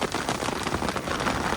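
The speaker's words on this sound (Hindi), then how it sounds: "बारिश इस वक्त चल रही है" Heavy rain drums on the hood of a safari vehicle parked in a riverbed in Corbett Tiger Reserve, a close, dense and continuous patter over a brief stretch.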